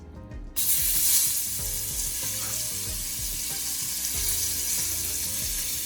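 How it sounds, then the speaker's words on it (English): Sweet peppers drop into a hot pan of Jamaican curry for curry fish and set off a loud, sudden burst of sizzling, which settles into steady frying with some stirring and scraping. "All right, so while my curry is burning, I'm gonna go ahead and throw my veggie on here."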